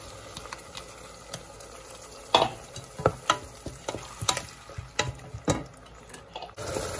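Ground onion sautéing in a pan for a mushroom biryani, with soft frying sizzle under a spoon stirring and scraping in irregular clicks and knocks close by.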